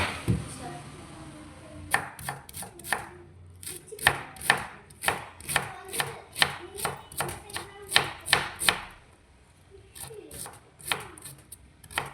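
Cabbage being chopped with a knife on a board for a mushroom dish, a brisk run of sharp, close knocks in uneven rhythm that pause briefly and then resume more sparsely.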